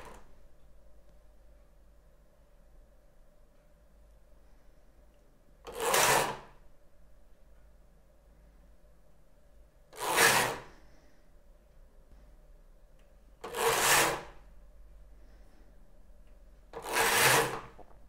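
A Knittax knitting machine knitting socks: four separate rasping sweeps of the carriage, spaced about four seconds apart, stand out sharply over a faint, low background hum.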